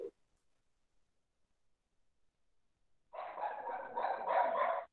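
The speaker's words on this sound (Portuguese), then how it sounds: "que o cachorrinho aí tá latindo" A small dog barks in a quick continuous string for about two seconds, picked up through a home microphone during an online class, after a long near-silent pause.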